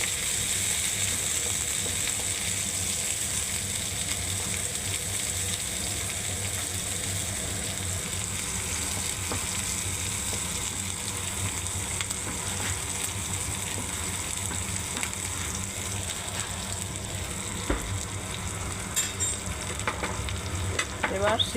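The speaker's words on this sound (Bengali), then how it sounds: "এটা আমি সিম ভাজা করব" Flat shim beans sizzle steadily in hot oil in a home kitchen pan, a dense continuous frying hiss with occasional faint scrapes and clicks, loud and close, with no one speaking.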